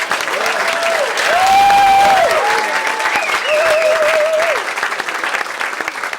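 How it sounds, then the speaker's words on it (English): Wedding guests applaud during a speech with full, sustained clapping, while cheers and whoops rise above it and voices call out in the room. "Let's have a round of applause for Graham and Ross"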